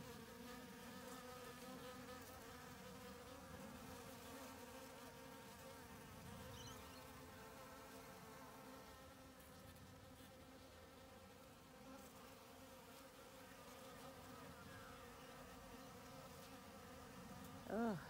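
Bees busily buzzing around blooming dragon fruit flowers, a steady dense insect drone with layered wingbeat hum throughout, close and continuous with no talk.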